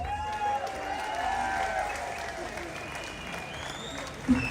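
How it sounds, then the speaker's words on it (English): Outdoor crowd applause at a London street march, a broad wash of clapping carried under steady tonal background noise, moderately distant, with a brief louder knock near the end. "they deserve a massive round of applause"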